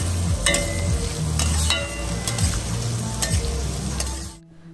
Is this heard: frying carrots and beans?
yes